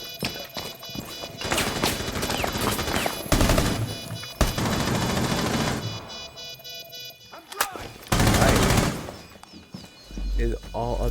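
Bursts of sustained light machine gun fire in Rainbow Six Siege, long rattling volleys broken by pauses and a few sharper impacts, loud and close, with commentators talking over the action.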